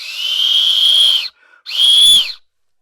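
A whistle is blown in two long, loud, steady shrill blasts, the second slightly shorter and ending with a dip in pitch, separated by a brief pause.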